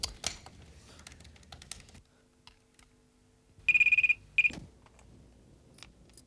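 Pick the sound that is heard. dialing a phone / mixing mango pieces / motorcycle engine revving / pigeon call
dialing a phone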